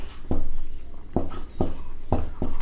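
Chalk strokes on a classroom board during a Hindi-to-English translation lesson: five sharp scratchy taps and short strokes in an uneven rhythm, close and fairly clear, with a faint room hum between them and no talk.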